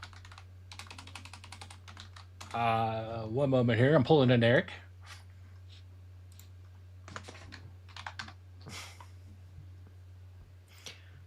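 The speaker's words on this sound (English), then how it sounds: "This is our typing episode." Computer keys clatter in quick irregular bursts during a live show, with someone speaking briefly partway through and a steady low hum underneath.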